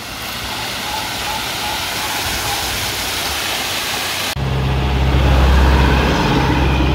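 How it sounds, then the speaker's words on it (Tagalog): A small roadside waterfall along Kennon Road near Baguio gives a steady broadband rush of falling water, joined partway through by a loud low rumble like a passing vehicle. "may maliit na falls pala dito"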